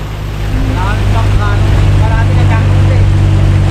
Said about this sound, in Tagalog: Talagang madaming bangka ngayon mga kabady at gulpingan lakas sa laot.